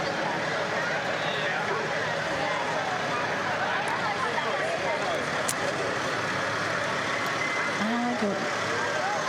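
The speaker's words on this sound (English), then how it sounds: "Here comes a huge fire truck behind the EMS" A large Mack fire truck rolls by in a town parade, its engine rumbling steadily among crowd noise and chatter, with a brief horn-like tone near the end.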